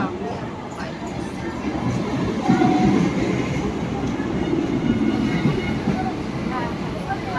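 A train passing at a station rumbles steadily nearby, a continuous heavy roar of wheels and carriages with people talking faintly underneath.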